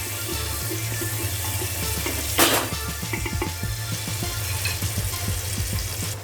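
Ginger garlic paste and two bay leaves fry in hot oil for a vegetable handi, giving a steady close sizzle throughout with soft clinks from stirring and one brief louder splash of crackle midway.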